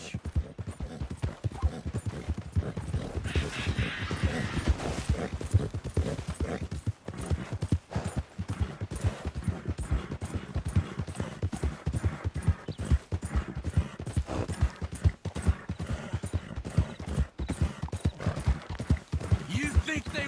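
Steady rhythmic clip-clop of horse hooves throughout in the video game Red Dead Redemption 2, with a voice speaking over it and an occasional whinny.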